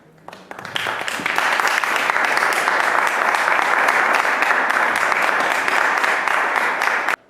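An audience at a lecture on opera and Buenos Aires lyric theatres applauds as a tenor and pianist come to the stage, dense even clapping swelling quickly and holding steady before ending abruptly.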